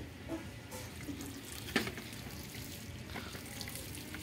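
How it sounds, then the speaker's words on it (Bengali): Water poured onto a freshly planted potted plant, a quiet, steady trickle and splash of water into soil, with one brief knock partway through. "গাছটা লাগানোর পর জলটা দেওয়া হচ্ছে।"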